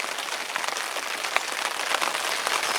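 Rain falls steadily at a carp fishery, a dense, even patter of drops spread across the whole clip with no voices, close and moderately loud.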